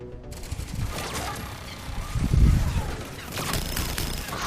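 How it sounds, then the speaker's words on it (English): Twin turrets fire in the Mass Effect 3 video game, a steady clatter of rapid shots with a heavier boom in the middle, close and loud over a busy battle backdrop. "Twin freaking goddamn turrets."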